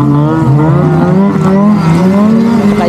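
Motorcycles roar past loudly and continuously, a sustained engine drone with shifting pitch and no talk, in Greenland.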